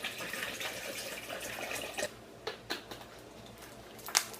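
Five cups of water, about 40 ounces, poured into a blender holding Brazil nuts, a steady liquid rush at first that breaks into a few splashes and drips, ending with a sharp clink.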